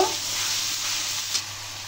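Chana masala with chili powder being stirred and fried in a hot pan: a steady, close sizzle with a brief scrape of stirring, no voices.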